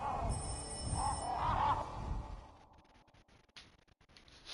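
Telephone ringing inside the horror video game Rise of Insanity, a steady electronic ring tone for about a second and a half, followed by quieter game ambience with faint clicks.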